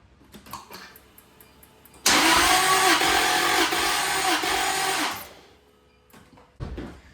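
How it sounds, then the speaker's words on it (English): Jaguar XKR X100 engine cranked by the starter during a compression test in a workshop, a loud rhythmic whirring burst of about three seconds between quieter clicks and handling noises. "I'm trying my best just to crank it 4 times, but it's not very easy"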